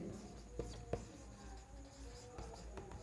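A pen writes by hand during a chemistry lesson, making faint scratchy strokes with a few sharper taps, quiet and close, under a low room hum.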